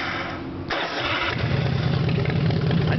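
A custom right-side-drive chopper motorcycle with a 124-inch S&S engine and very loud pipes cranks and fires up, settling into a loud, rumbling idle close by with no talking.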